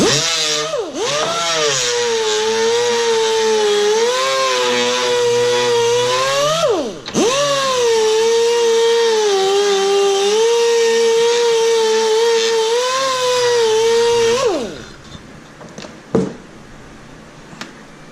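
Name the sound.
pneumatic angle drill polishing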